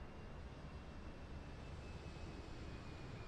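Embraer jet taking off in Microsoft Flight Simulator 2024 near London City, heard as a steady broadband engine roar with a faint high whine, constant in level throughout and with no talk over it.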